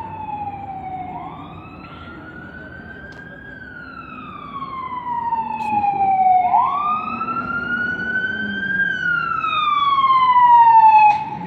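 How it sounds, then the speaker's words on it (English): An ambulance siren wails on a street, its rising and falling tone sweeping through repeated cycles as the vehicle approaches and grows louder, with traffic rumble beneath. "here's the ambulance coming"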